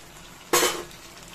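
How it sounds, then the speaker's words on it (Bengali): Prawns dropped into a pan of frying yam and masala give a sudden burst of sizzle that flares up and slowly fades over a low background hiss. "চিংড়ি মাছগুলোকেও দিয়ে দিলাম।"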